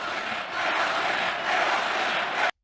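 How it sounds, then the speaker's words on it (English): A political rally crowd chants "where was he" in a steady, massed roar, heard somewhat distant and muffled before stopping abruptly. "he hears the "where was he" chants"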